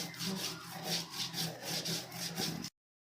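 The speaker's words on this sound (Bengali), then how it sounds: "সরিষা কাঁচামরিচ দিয়ে বেটে নিচ্ছি।" Mustard seeds and green chilies are ground into paste on a grinding stone, making rhythmic back-and-forth scraping strokes, close and fairly quiet, with no talk.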